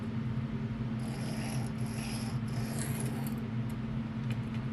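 A Spyderco Para3 knife blade having its plunge grind sharpened, a continuous close scraping and rubbing over a steady low mechanical hum, with a few brief higher squeaks partway through.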